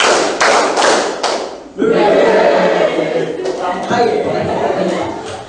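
A group claps in unison to a call-and-response clap chant, several sharp rhythmic bursts of claps near and loud, followed by voices and laughter mixing with further clapping.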